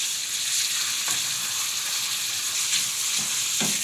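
Celery, fennel and peperoncino cooking in a pan, a loud, even sizzle with soft stirring scrapes now and then.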